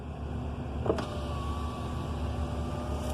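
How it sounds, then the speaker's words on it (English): A car's power window motor whirs steadily for a few seconds with a faint click near the start; no one speaks. "now let's put our window down"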